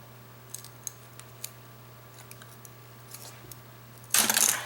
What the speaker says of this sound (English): That's a little bit harder to cut right there